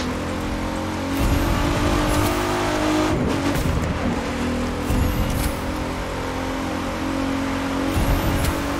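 A Ferrari engine in The Crew 2 racing game roars and revs continuously with whooshing passes and occasional tire noise, loud and steady, with no talking.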